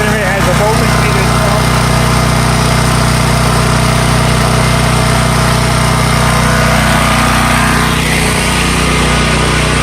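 A running generator engine drones loud and steady at close range, its constant hum and buzz unbroken throughout, with someone talking over it.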